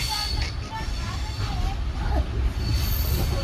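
Passenger train leaving Ratnagiri for Vasai, a steady loud low rumble of rolling wheels throughout, with occasional thin wheel squeals on top and faint background chatter from the carriage.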